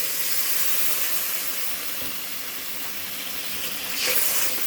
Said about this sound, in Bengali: জল দিয়ে ভালো করে কষিয়ে নিচ্ছি।